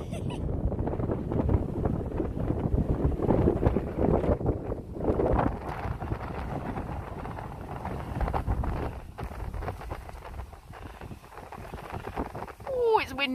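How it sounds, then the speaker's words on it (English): Gusty wind buffets the microphone with low rumbling roar throughout, under intermittent talking nearby. "Oh, it's windy."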